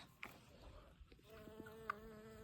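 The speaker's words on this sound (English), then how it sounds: "There it is, little bumblebee." A bumblebee buzzes among garden flowers, a faint, steady drone with brief louder passes as it moves close by, over a quiet outdoor background.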